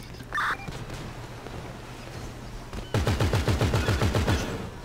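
Rapid automatic gunfire in a roleplay video game, a single earlier shot followed by a near, loud burst of about ten evenly spaced shots.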